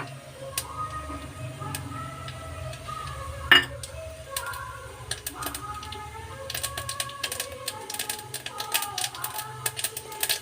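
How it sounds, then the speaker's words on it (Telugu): Tempering spices for rasam crackling in hot oil, with a single sharp spatter early on, then rapid, clicky popping that grows busier and denser toward the end. "ఆయిల్ వేడెక్కిపోయింది. పోపు దినుసులు వేసుకుందాము."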